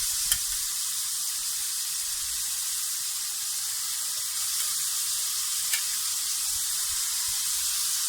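Chicken mince with cumin and tomato fries in oil, a steady close hiss and sizzle running throughout, with a couple of faint clicks and no talking.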